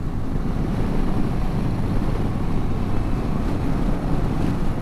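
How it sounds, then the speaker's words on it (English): Wind blowing steadily into an outdoor microphone, a loud, continuous low rumble that drowns out everything else without easing. "It's probably the bloody wind."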